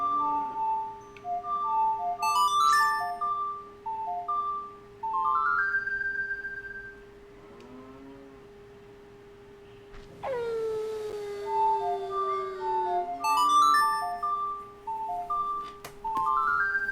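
An ocarina melody from the Ocarina of Time video game is played twice as a short repeated tune of clear tonal notes, separated by a sustained chime and a swooping game sound effect, with no talking.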